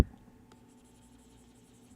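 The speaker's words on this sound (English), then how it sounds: "your tablet makes fun ASMR sounds while you draw" A pen scratches faintly across a drawing tablet in quiet, steady strokes, close and soft with no voices.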